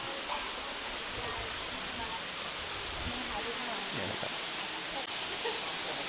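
A waterfall and stream in Namtok Phlio National Park, Chanthaburi, give a steady, even rushing hiss that fills the background without pause.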